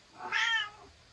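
A cat gives one clear, close meow, rising and falling in about half a second, with a quiet room around it.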